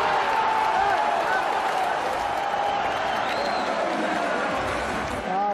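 ADO Den Haag fans cheer at a football stadium on match day. A broad, constant roar from a large crowd mixes with scattered shouts and whistles, loud and sustained throughout.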